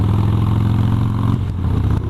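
A motorcycle engine rumbles loudly nearby, its pitch rising and shifting as it revs, with a rattling, throaty texture throughout.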